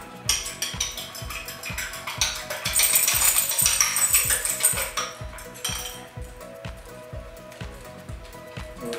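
A fork or whisk beats eggs with fried onions and garlic in a bowl for lasagna filling, making fast, rhythmic metallic clinks against the dish, close and steady throughout.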